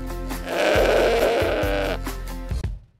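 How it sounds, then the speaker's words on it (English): A goat bleats loudly and close by, one long wavering call that breaks off abruptly near the end, alone without talk. "G for goats."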